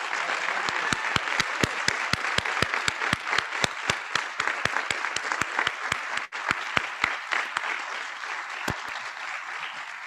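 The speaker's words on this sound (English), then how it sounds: "if we could just give them one more round of applause as a group" A room of people applauds students at a school board meeting, steady dense clapping throughout with a few louder individual claps standing out close by.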